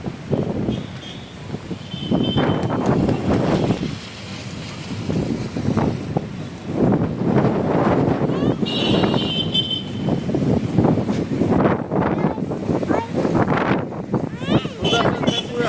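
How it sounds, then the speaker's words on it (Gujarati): Strong gusting wind buffets the microphone outdoors near Dwarka, a loud, continuous rumble that swells and eases in waves for the whole stretch, with people's voices mixed in underneath. "130 સ્પીડે પવન ફૂંકાઈ રહ્યો છે."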